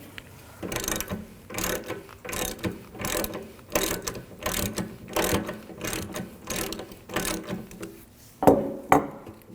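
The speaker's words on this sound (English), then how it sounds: "you're going to want to use a 19mm socket. Take this plug out." Close, loud clicking of a 19mm socket ratchet working a radiator plug loose on a 2007-2013 BMW 328i 3.0L inline-six, in repeated bursts of rapid pawl clicks with brief pauses, ending in a couple of sharper knocks.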